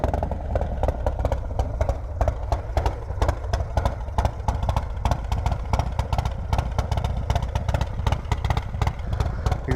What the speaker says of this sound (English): let's get a hot engine start for you guys so you can hear this cam lope at idle